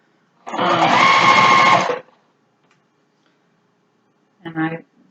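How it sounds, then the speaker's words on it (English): A home sewing machine stitches a fabric face mask, one steady close whirring run of over a second, then silence, then a short second burst as the stitch reverses and goes forward. "I'm doing a little reverse stitch and a forward, like a little cha-cha back and forth"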